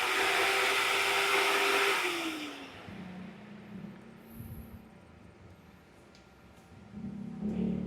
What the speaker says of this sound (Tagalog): 12-inch, spal brushes fan.